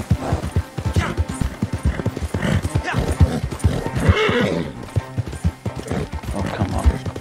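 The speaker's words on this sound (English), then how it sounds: "Come on, horsey." Horse hooves clip-clop at a gallop with an occasional whinny in Red Dead Redemption 2 Online, a steady rhythmic beat running under near, continuous talking.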